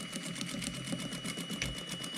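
A sewing machine stitches the collar of a jacket, with rapid even needle clatter running steadily for the whole stretch, close up and without talking.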